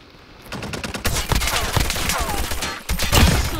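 Rapid bursts of ASM10 gunfire in a video game, loud and close, repeating in quick strings with brief pauses and no voices over them.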